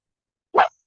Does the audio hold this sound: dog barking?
yes